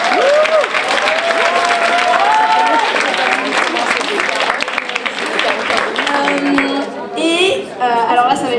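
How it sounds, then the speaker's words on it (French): Audience applause at a live stage show: a dense, sustained wash of clapping with some cheering and crowd chatter, close and loud, with voices heard over it and a thinner patch of clapping near the end. "Gros applaudissements pour le point éphémère."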